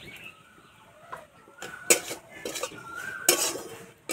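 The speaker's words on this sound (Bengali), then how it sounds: "যতক্ষণ না ঝরঝরে হচ্ছে এইভাবে নাড়তে থাকবো।" Potato filling for kachori is stirred in a pan with a spatula, making intermittent metallic scrapes and a few sharp clinks against the pan, fairly close and without talk.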